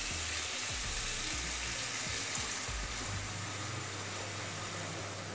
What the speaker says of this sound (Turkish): Ben şimdi bu kaseye biraz su koyuyorum.